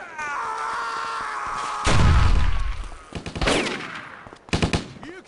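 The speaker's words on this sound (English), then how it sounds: "What the hell's shooting at me now?" Enemy gunfire in Stubbs the Zombie, with loud bursts of shots and a heavy blast over a droning game backdrop, ending in a quick run of close cracks.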